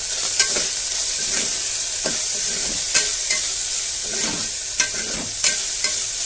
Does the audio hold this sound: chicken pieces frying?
yes